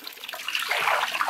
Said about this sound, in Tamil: நல்லா கழுவணும் தம்பி